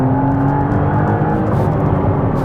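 A 2023 McLaren Artura pulls hard in third gear, its engine note droning steadily near and loud with a constant whir and no talk over it.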